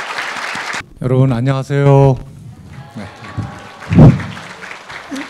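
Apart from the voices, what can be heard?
audience applause welcoming a singing trio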